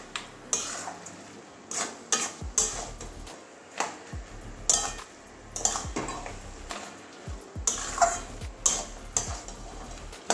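A spoon stirs papaya and katla fish head curry in a pot, producing close, irregular clinks and scrapes against the metal over a soft background.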